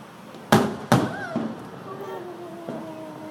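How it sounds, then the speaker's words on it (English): Fireworks seen from a balcony: two sharp, loud booming bursts in quick succession followed by a softer third pop and crackle, with a voice speaking faintly underneath. "That's just fireworks."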